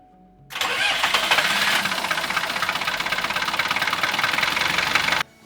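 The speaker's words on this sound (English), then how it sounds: "We're going to run the engine for about 5 minutes, let that circulate" A boat engine fires up and runs steadily after an oil change, a loud, even mechanical drone with a fast pulsing knock that stays constant for about five seconds before cutting off.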